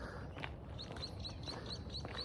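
A bird whistles a series of short, high chirps repeating at a steady pace, faint over a soft outdoor background.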